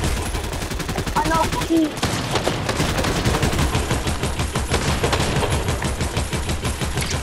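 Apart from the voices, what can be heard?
gunfire from the video game Fortnite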